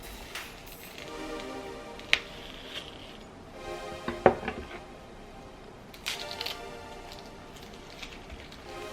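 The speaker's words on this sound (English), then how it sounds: "Cut the center of green onion." A kitchen knife slicing into the center of a green onion on a cutting board, a few sharp isolated cuts and taps spread apart, near and moderately loud against a quiet room.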